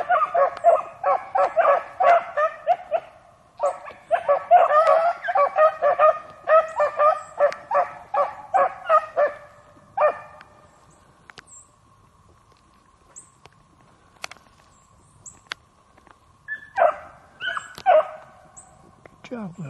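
Beagles bay and yelp in rapid repeated bursts while trailing a rabbit with noses to the ground, loud and close for the first ten seconds, then a quieter pause with scattered calls before another burst of baying near the end.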